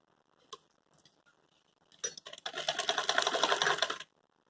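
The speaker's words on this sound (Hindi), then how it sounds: "अब हम इसके ऊपर गले के ऊपर बिठाते हुए सिलाई चलाना स्टार्ट कर देंगे।" A sewing machine runs in a steady fast burst for about two seconds, stitching a binding strip onto the neckline of a frock suit, preceded by a few faint clicks and handling sounds.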